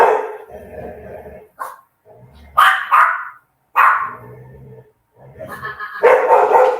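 Dogs bark at home in short loud bursts separated by pauses, close by, with several sharp barks clustered near the middle and end.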